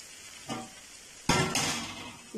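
Fried kaleji (goat liver) being stirred and mixed in a pan with the flame turned off: a few scraping, clattering strokes of a spoon against the pan, fairly close, with no speech.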